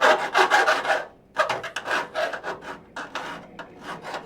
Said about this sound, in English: I could probably do with filing just a little bit more